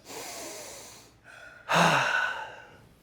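Heavy, deep breathing during a squat hold, heard close: a long sighing exhale, a short pause, then a sharp, loud gasping breath that trails off, with no talking.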